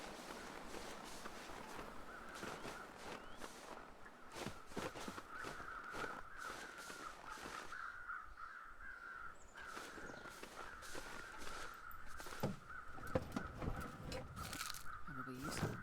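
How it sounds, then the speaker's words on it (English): Crows cawing outdoors at a distance, faint calls scattered over a steady windy background with occasional footstep-like crunches nearby. "The crows are out making noise"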